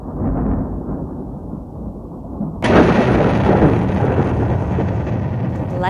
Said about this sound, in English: Lightning has struck nearby